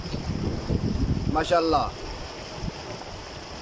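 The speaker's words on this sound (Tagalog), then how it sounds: "Tignan nyo kung gaano kalakas yung tubig." Strong water rushes steadily through a man-made water feature in Saudi Arabia, a continuous broadband roar, with a voice briefly speaking over it partway through.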